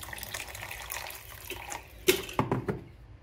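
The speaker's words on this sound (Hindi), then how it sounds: "अब इसमें डाल देंगे थोड़ा गरम पानी।" Warm water poured into a pan of matar mushroom curry, a short splashing gush that rises sharply near the end over a soft background hiss, close by.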